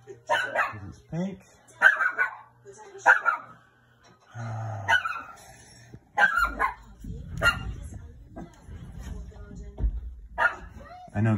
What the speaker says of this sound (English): with the dog making all the noise